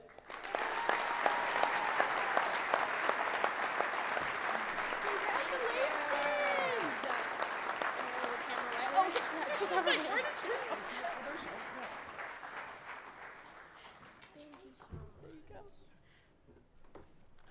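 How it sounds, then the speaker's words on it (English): A banquet audience applauds a Sportswoman of the Year award winner at a sports hall of fame club dinner, with loud, sustained clapping that tapers off near the end, while voices and bits of tonal sound carry underneath. "Please give a big round of applause for the Neckerman and McClone Insurance Madison Sportswoman of the Year, Demetria Pruitt"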